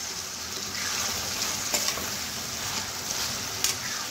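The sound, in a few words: sautéing leftover brinjal and potato vegetable in a pan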